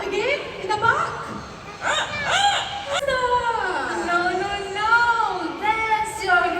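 Rooster-style crowing imitated by an Amazon parrot during a bird park show in Singapore, several strained, sliding harmonic calls in quick succession, fairly loud and near, with light background murmur.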